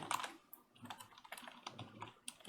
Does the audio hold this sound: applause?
no